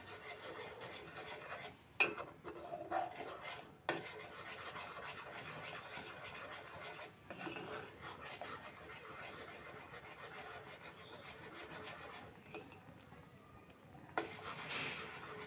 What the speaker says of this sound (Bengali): আর এখন আমাদের এটা ঘেটে নিতে হবে যতক্ষণ না এটা ঘন হয়ে আসছে।